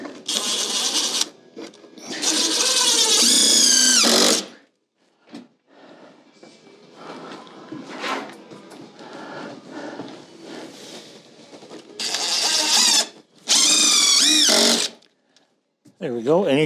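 A power drill drives screws into wooden shower framing under a staircase, in two loud whirring bursts at the start and two more near the end, with quieter handling noise and speech in between.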